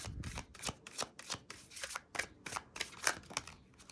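Tarot cards being shuffled and drawn for an Aries reading, a steady run of close, crisp riffling swishes and slaps, evenly paced, with no voice over them.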